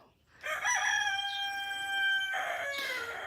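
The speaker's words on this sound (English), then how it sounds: "mostly young roosters over with the hogs" A single young rooster crow, nearby and clear, on a farm near hogs, with a strained, slightly ragged tone that breaks off and trails into a second rasping note.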